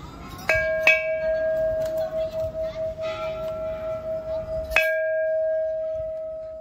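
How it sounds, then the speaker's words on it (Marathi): A temple bell at a Buddhist temple in Bangkok is struck twice, each strike ringing out clearly and decaying into a long, sustained hum beneath faint background noise. "इकडे तिथे अशी घंटा पण आहे"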